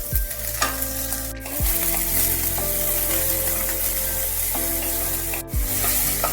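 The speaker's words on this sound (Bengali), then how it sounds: "পেঁয়াজটা অল্প একটু লাল হতে শুরু করলেই দিয়ে দিতে হবে কেটে রাখা গাজর।" Chopped carrots added to onions frying in a pan for simei upma, a loud continuous sizzle with stirring and scraping, the hiss swelling sharply at a couple of moments as ingredients hit the hot oil.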